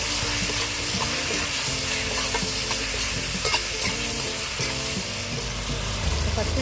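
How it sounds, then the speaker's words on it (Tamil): Mutton being sautéed with ginger, garlic, onion, chilli powder and garam masala in a pan for ghee mutton chukka, a steady loud sizzle with repeated scraping stirs throughout, no voices. "இது எல்லாத்தையுமே நல்லா வதக்கிக்கணும்."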